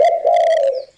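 A bird coos in a roofing radio ad, a single close, clear dove-like call with a rolling warble, heard alone.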